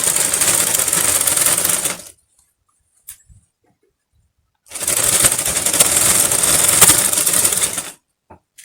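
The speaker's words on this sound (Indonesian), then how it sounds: "Rapihkan supaya bagian bawahnya dijahit dengan rapi" Sewing machine stitching the hem of a skirt, running in two steady bursts of about two seconds and three seconds with a quiet pause between, close and fairly loud.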